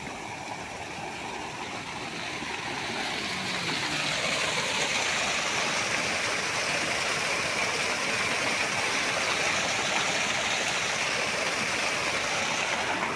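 Water from a motor pump gushes into a field of pearl millet. The steady broadband rush builds over the first few seconds, then holds as a constant, close, unbroken flow.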